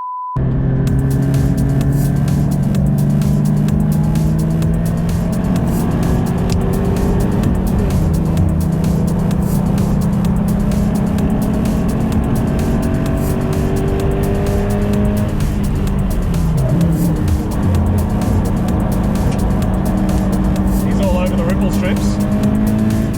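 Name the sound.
Subaru BRZ racing on track with Mazda MX-5 alongside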